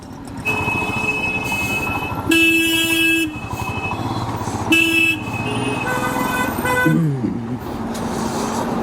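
Dense road traffic in Maharashtra with repeated car and truck horns honking over a steady engine rumble, several long blasts standing out loudly and close.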